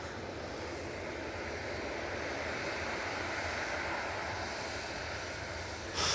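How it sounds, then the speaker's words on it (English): A KLM Embraer E175 jet arriving from Amsterdam Schiphol at Manchester Airport gives a steady, broad engine roar that holds evenly throughout at moderate distance, with no voices. "E175 coming in from Amsterdam Schiphol"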